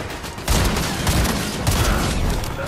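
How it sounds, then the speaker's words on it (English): A shotgun blasts during a boss fight in a God of War-style Olympus action game, a sudden loud burst of gunfire followed by a sustained roar of shots and impacts over game effects. "I don't know if I like this shotgun, though"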